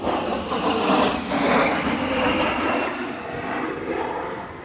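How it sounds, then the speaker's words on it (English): A private jet passes overhead with a loud, sustained roar of engines that swells and slowly fades, heard alone outdoors in the Lake District National Park. "That was a private jet."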